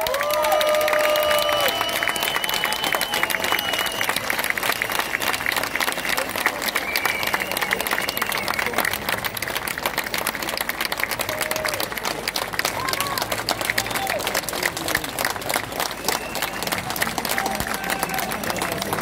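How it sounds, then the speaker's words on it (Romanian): Loud, sustained crowd applause with cheering fills an outdoor award ceremony for a Sibiu cycling tour, steady dense clapping running throughout without a break. "Doamnelor și domnilor, să-l primiți cu aplauze pe Lennart van Etveld!"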